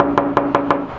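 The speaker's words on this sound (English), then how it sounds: "We'll give him a knock." Four evenly spaced knocks on a front door at a house, close and crisp, with no voices.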